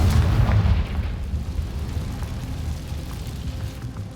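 Confringo explosive spell in Hogwarts Legacy, a heavy booming blast at the start that fades into a low rumbling tail, loud and alone.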